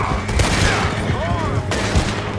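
Gunfire rattles during a horseback chase in Red Dead Redemption 2, with several sharp shots under galloping hooves, music and a voice talking over the action.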